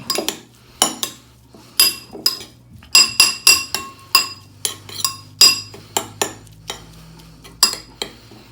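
A utensil mixes two tablespoons of wine vinegar in a bowl, producing a steady series of sharp, close metallic clinks against the bowl's sides at a quick, uneven rhythm, with no talking.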